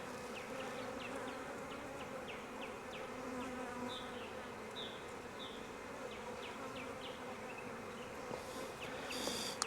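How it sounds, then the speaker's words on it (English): Bees swarm around an open frame from a five-frame nuc hive in Jacksonville, Florida, with a dense, continuous buzz and occasional faint clicks, fairly soft and without any talk. "Nice population of bees."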